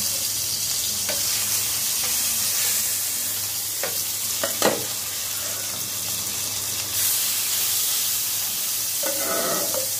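Fish sizzles steadily in hot oil in a pan, a constant bright frying hiss broken by occasional clinks and scrapes of stirring.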